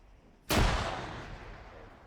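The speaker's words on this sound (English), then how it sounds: "I'm throwing a frag." A frag grenade going off in a military shooter video game: one sudden, heavy blast that follows a quiet moment and trails off in a long rumbling decay.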